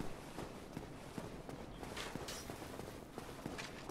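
The player character's footsteps in the Dark Souls video game, a regular run of heavy, thudding steps at walking pace, quiet and somewhat masked by the game's background sound.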